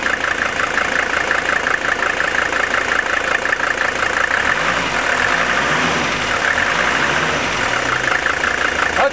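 A Mercedes 300TD diesel engine idles with a steady, even clatter, close and fairly loud, running alone without talk.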